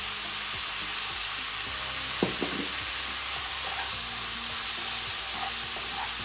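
Soy sauce hits a hot pan of paneer fried rice with chopped chili, giving a steady close sizzling hiss and a couple of brief clinks midway, with no talking.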